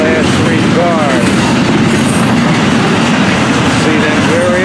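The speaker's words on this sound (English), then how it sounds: "Doing the honor with the hot train. Double stack!" FEC 101 double-stack freight train rolls past close by with a loud, continuous rumble and clatter of wheels, thin squealing wheel tones rising above it now and then.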